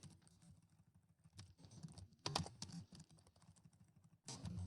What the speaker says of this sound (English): I'm struggling to type here.